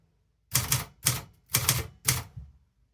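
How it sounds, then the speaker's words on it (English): A manual typewriter types out a short word: four quick, crisp bursts of key strikes land close together, each a sharp clack cluster, with a brief pause between them. "So you type your word,"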